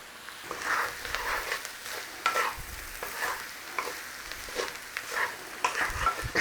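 Nuremberg sausage and sauerkraut hash is stirred in a frying pan, with a spoon scraping and turning the mixture in repeated strokes over a steady, moderate sizzle.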